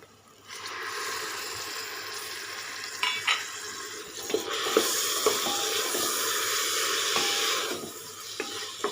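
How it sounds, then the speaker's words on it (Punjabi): Browned onions sizzle in a pan for an aloo chana curry, then tomatoes go in and the frying swells louder, with a few sharp spoon clicks and scrapes close by. "ਪਿਆਜ਼ ਸਾਡਾ ਭੁੱਜ ਗਿਆ ਏ ਬ੍ਰਾਊਨ ਹੋ ਚੁੱਕਿਆ ਹੈ ਹੁਣ ਆਪਾਂ ਇਹਦੇ ਵਿੱਚ ਟਮਾਟਰ ਪਾਵਾਂਗੇ"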